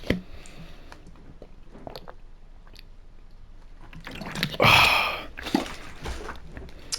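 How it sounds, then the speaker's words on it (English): Someone takes a quick drink of water close to the microphone: soft slurping and gulping around the middle, then a short exhale, over a quiet room background with no talking. "I'm just going to drink some water quickly."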